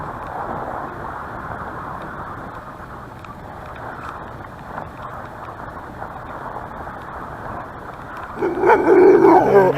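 A dog barks in a cold, snowy outdoor setting, with yips and whimpering sounds mixed into steady background noise and a louder burst near the end.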